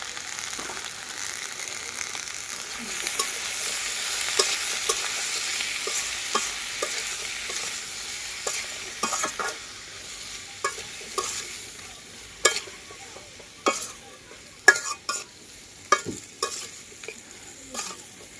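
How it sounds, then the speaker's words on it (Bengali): Green tomatoes with salt, chili powder and turmeric are stirred in a hot pan, a soft frying sizzle underneath scraping spoon strokes that grow sharper and more frequent toward the end, with no talking. "নেড়ে ছেড়ে মিশিয়ে নিয়েছি"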